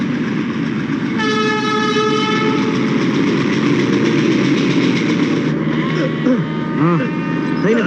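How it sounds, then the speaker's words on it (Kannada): A train passes close by in a rural Kannada film scene, its steady rumble carrying throughout while a loud horn sounds in long held blasts, followed by short whistle-like calls near the end. People talk over it. "ಏನೋ ಟ್ರೈನ್ ಸೌಂಡ್ ಕೇಳ್ತಾ ಇದೆ ಅಲ್ವಾ?"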